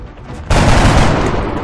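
Automatic weapon fire in the game XCOM: Enemy Within, a sudden loud burst of rapid crackling shots that erupts and sustains as a dense volley until the end.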